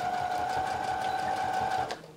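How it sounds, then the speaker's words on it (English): A domestic sewing machine stitching fabric for an armchair sewing caddy, a close, steady rapid whirring hum with fast needle clatter that runs for about two seconds before stopping abruptly. "I'm going to sew this to the side"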